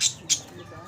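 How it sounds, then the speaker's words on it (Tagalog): African lovebirds give two short, sharp squawks in quick succession, close by, followed by quiet background. "Ayan, yung ibon mo, Doy"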